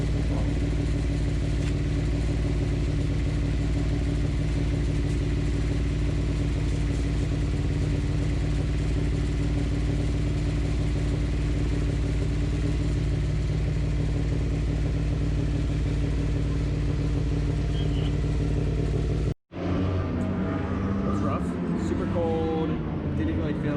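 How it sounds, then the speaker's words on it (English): Superbike racing motorcycles roar around a track on a cold early morning at a MotoAmerica round in Indianapolis, a dense, sustained engine drone that cuts off abruptly near the end, followed by nearer clatter and talking. "Super bike's out right now, so it's super loud."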